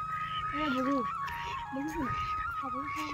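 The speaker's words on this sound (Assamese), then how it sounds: "এইবোৰ হাঁহ" Ducks in a rural Assamese village among paddy fields give several close, honking quacks in short bursts, with a constant high tone and a voice speaking underneath.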